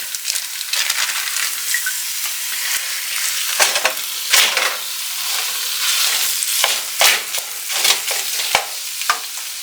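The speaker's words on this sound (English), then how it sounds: "now I'm going to go ahead and add in our ground beef" Ground beef cooking in oil in a pan, a steady close sizzle broken by repeated scraping and stirring clatters from a utensil, loud and irregular, with no voices.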